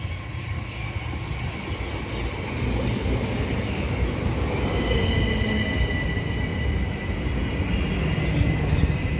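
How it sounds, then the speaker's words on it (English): A train rumbles past with steady, loud wheel noise and a high metallic squeal, continuous throughout. "Oh, train's coming."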